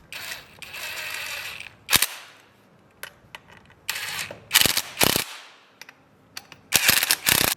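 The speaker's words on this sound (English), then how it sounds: "use an M8 socket to install the rear bolt" M8 socket wrench tightening fender bolts on an Xpro DB-K013 / S3-110 (Lynx 110A) motorcycle: close, loud ratcheting clicks in several short bursts separated by brief pauses.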